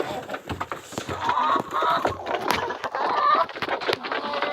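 A flock of about twelve hens clucks inside a coop, overlapping close, busy calls rising and falling with a few sharper squawks.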